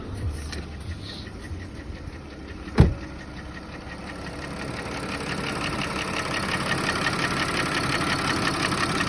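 An Audi A6 C6 with the V6 2.8 FSI engine idles with a steady mechanical knock, a close, continuous rattling tick under the engine hum, with one sharp click partway through and no talking.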